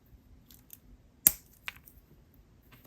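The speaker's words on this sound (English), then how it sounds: "Snip off the excess." Wire cutters snipping excess wire on a beaded choker necklace, one sharp close click followed by a few faint small clicks and handling noises, with no talking.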